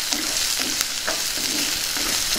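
Green chillies, dried red chillies and curry leaves crackle steadily in hot oil, loud and close, with a spatula pushing through the pan in regular strokes roughly every half second. No one speaks.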